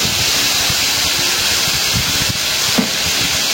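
Potatoes and vegetable stems dropped into a hot pan of fried spices, giving a loud, steady close sizzle with faint crackles throughout and no talk.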